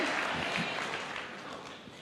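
Congregation applause in a church during a sermon: a fairly faint, dense wash of clapping that slowly tapers off over two seconds.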